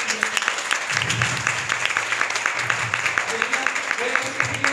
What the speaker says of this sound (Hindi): हमारे यीशु के लिए जोरदार आप ताली बजाइए